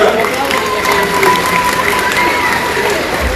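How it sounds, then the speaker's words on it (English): Crowd applause and cheering in the stands at a SeaWorld Florida dolphin show, loud and continuous, with a thin tone running through and some voices mixed into the noise. "Now give yourselves another round of applause"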